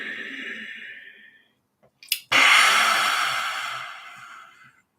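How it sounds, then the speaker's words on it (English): A breathing exercise: a long audible inhale, a brief pause, then a forceful open-mouthed exhale with the tongue out that tapers off slowly. "an inhale in and an exhale with the tongue out"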